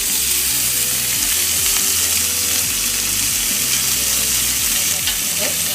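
Frozen mixed peas, corn and carrots fry in a pan, giving a loud, dense, continuous sizzle close up that never lets up, with faint stirring scrapes underneath.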